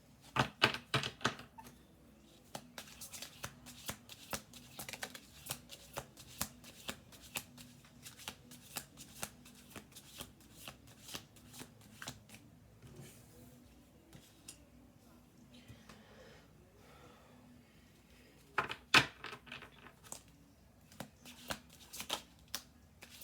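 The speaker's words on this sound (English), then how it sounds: "I'm gonna do 2 more shuffle throughs." Tarot cards being shuffled by hand in repeated quick riffling bursts, crisp and close, with pauses between rounds and a louder flurry toward the end, over a quiet background.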